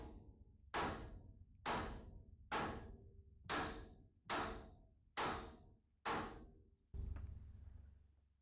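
A hammer strikes a stuck, worn drag link on a Peterbilt 379 truck eight times, each hit a loud, sharp metallic bang with a short ring, spaced about a second apart and steady in rhythm.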